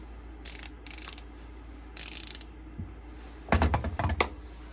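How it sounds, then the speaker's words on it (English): A ratchet wrench from a yard sale tool haul clicking in short, separate bursts of quick close ratcheting, with a louder run of clicks near the end and quiet gaps between. "But this is a nice ratchet wrench."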